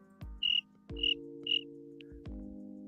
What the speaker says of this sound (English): Somebody said, we hear crickets.